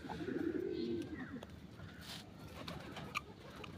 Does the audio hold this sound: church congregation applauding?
no